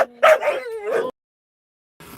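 An excited dog lets out close, high yips and whiny barks in a quick run, then goes quiet before a faint rustle.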